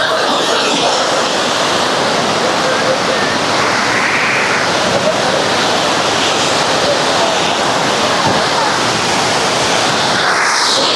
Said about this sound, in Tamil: பாருங்கள் ஃபால்ஸ்.